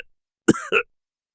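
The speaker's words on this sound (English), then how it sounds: "Splat started coughing again." A narrator voicing a character's cough, two short rasping coughs close to the microphone, alone in silence.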